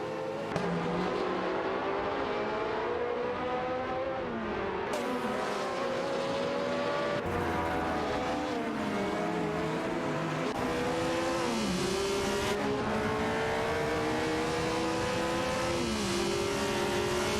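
Several race cars roar past in a loud, continuous stream of high-revving engines, pitches rising and falling as they accelerate and shift, with overlapping passes throughout and no talk.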